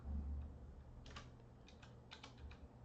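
Quiet keystrokes tapping out numbers on a computer keyboard, several short clustered bursts of clicks separated by brief pauses, close and soft over a faint room hum.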